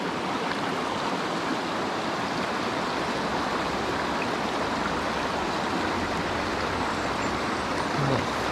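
A shallow mountain stream in western North Carolina, running low, flows in a constant, dense rush of water noise, close and steady throughout with no talking.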